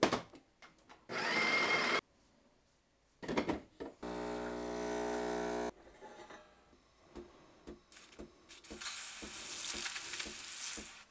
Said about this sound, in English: let's see how these things actually perform while making an espresso